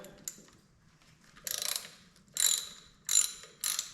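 A ratchet wrench loosens a bolt on a Farmall 460 tractor, giving several short bursts of close, crisp clicking separated by brief pauses, with a single click near the start.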